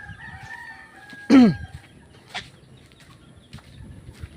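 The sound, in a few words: chickens clucking and rooster crowing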